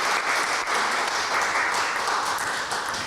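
Sustained audience applause for a musician as he comes onto a concert stage, a dense steady wash of clapping that fills the whole stretch at even loudness.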